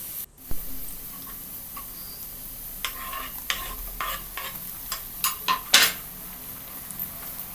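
Chopped tomato frying with browned onions in a pan for chicken gravy, with a steady low sizzle and a series of clinking, scraping stirs of a metal spoon against the pan, close by.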